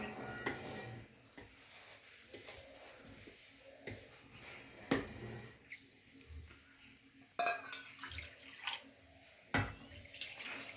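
Water poured from a bowl into rava dosa batter in a kitchen, heard as faint splashing and trickling with a few light clinks of a steel bowl and utensil, no talking.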